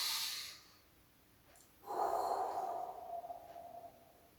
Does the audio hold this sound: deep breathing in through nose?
yes